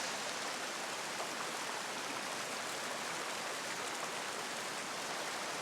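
Water pours steadily over a waterfall and runs through a stream on an island, a dense, continuous broadband rush that stays loud and unchanging throughout with no voices.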